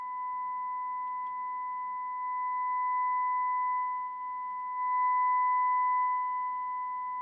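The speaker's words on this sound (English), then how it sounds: "feeding an audible sine wave to one of the amplifier inputs" A steady, continuous sine test tone fed into a Marantz PM-64 II amplifier, with a bright harmonic above it, holding level throughout with a slight buzzy distortion from a faulty right channel, no voices.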